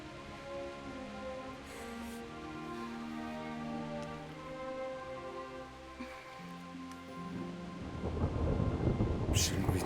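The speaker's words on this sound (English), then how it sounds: "Not afraid of thunderstorms, are you?" Thunderstorm with rain in the medieval game Kingdom Come: Deliverance, with long deep rumbles of thunder rolling across the whole stretch and a loud crack and surge of heavy rain near the end.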